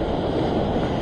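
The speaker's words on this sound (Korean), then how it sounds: "너울성 파도를 넘기고" Ocean swell rolling in during a sea float-fishing trip for black bream: a steady, broadband wash of surf and water noise, fairly loud and continuous, with no voices over it.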